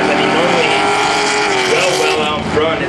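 An off-road racing truck engine roars at a steady high pitch with shifting revs, loud and sustained, under faint crowd or commentary sound at an off-road motorpark race.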